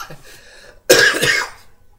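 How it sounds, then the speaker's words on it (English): A single harsh cough bursts out close by after a brief faint throat sound, then fades. "the worst thing about being sick is the cough"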